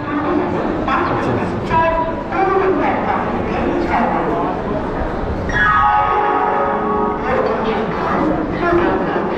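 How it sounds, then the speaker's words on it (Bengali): Busy ambience at Howrah railway station in Kolkata: crowd chatter and voices mix with dog barks and yelps, and a long train horn sounds midway. "তো এটা হাওড়া রেল স্টেশন"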